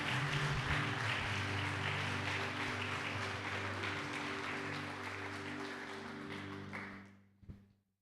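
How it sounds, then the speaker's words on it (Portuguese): A church congregation applauds at a Portuguese-language worship service, sustained clapping under a faint steady tone that tapers off near the end. "igreja, aplauda o Senhor"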